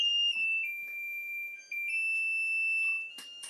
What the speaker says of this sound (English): Let's turn off the timer.